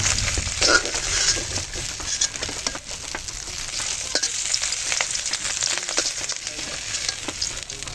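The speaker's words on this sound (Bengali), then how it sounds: "তেল গরম হয়ে এসেছে এখন দিয়ে দিচ্ছি দুটো তেজপাতা জিরা" Bay leaves and cumin seeds crackle and sizzle in hot oil in a kadai, a dense steady frying hiss with scattered pops and spatters, close and without talk.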